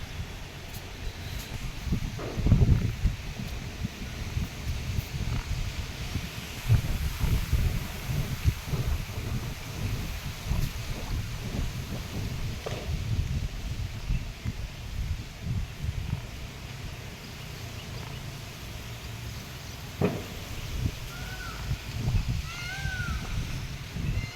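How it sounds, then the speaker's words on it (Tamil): Gusty wind rushes through neem tree leaves in a garden in a continuous rustle, with occasional buffeting bumps on the microphone and faint voices in the background. "பயங்கரமான காற்று காற்று அதிகமாக வீசிட்டு இருக்குது வேப்ப மரமெல்லாம் பார்த்தீங்கன்னா அப்படி அதிகமாக வீசிட்டு இருக்குது"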